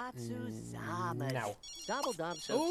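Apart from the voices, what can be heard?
phone ringing in The Sims 3 video game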